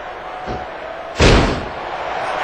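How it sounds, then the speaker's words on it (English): A single sharp slam from a wrestling elbow strike landing in the ring at an SCAW Dark December 2007 show, cutting through a faint crowd hum and ringing out briefly. "Elbow by Sandman."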